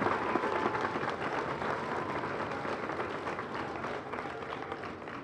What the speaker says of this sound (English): So how about a big round of applause for all your teachers and all the leadership